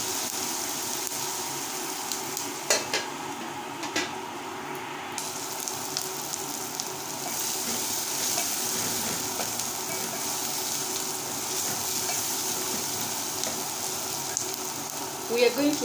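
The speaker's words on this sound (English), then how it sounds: "I'm going to add my garlic at this point." Garlic fries in a hot pan of oil for an Omena stew, a steady crackling sizzle with small pops and faint stirring, continuous and close throughout.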